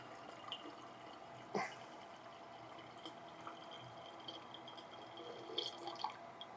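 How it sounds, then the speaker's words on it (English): Water is poured into a coffee pot during cleaning, a faint, quiet trickle with a few small splashes and drips close by, no voices. "then we will go ahead and pour in our water"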